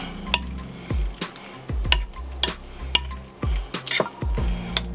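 Macaroni ham salad is stirred in a bowl, giving a series of close clinks and knocks of a utensil against the dish at an uneven pace, with soft wet squishes between them and no talking.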